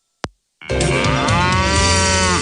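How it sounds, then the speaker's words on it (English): Cattle moo loudly and close: a brief sharp knock, then a long, full, sustained bovine moo that fills the rest of the moment, with no voices. "Raising cattle is a business."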